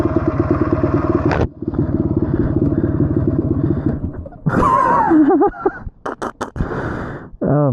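A small two-stroke Yamaha DT250 motorcycle engine idles with a steady, buzzing rattle, then revs up sharply in a few rising and falling bursts close by.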